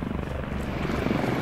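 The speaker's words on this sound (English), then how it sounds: "Chopper's coming over us on the coast." A helicopter passes overhead in the military game Squad on the Goose Bay map, its rotor and engine making a steady, thick drone that fills the whole moment.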